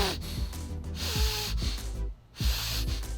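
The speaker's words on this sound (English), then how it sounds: "Let me show you what happens when your breathing rate increases and your breathing volume increases." Heavy nasal breathing during a workout without a nasal dilator, from a person with a deviated septum and left nostril collapse; rhythmic, close, rasping inhales and exhales repeat several times, with a brief quiet gap near the end.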